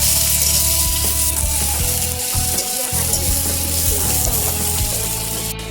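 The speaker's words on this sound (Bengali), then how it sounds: "আমাদের কাঁঠাল ভাজা হয়ে গেছে এখন মাংসগুলো ভাজতে হবে" Green jackfruit pieces frying in a pan for a country chicken curry, with a loud steady sizzle and stirring scrapes running throughout, close and continuous with no talk.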